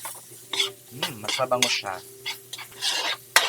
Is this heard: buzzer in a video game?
no